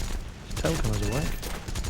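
In War Thunder, an SU-2's tail gunner fires a machine gun at a diving Japanese Zero, a brief rattling burst close up under engine drone, with a voice speaking over it.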